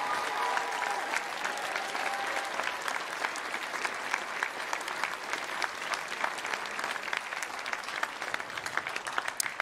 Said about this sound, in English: can you just give a round of applause for all of the Academy students who performed this evening?